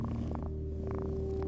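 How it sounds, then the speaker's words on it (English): A domestic cat purrs close up, a low continuous rumble with a soft rhythmic pulsing as it breathes in and out, steady and unbroken throughout. "cats produce frequencies between 25 and 150 Hz when purring"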